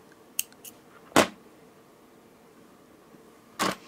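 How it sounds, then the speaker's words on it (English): Scissors cutting necklace thread: two crisp, close snips about two and a half seconds apart, with faint small clicks before them in a quiet room. "I will take the scissors, cut the thread"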